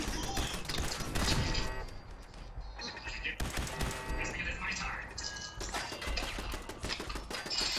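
Three or four turrets firing guns in a video game, rapid dense bursts of gunfire in overlapping volleys with short pauses, loud and close, while players talk over them.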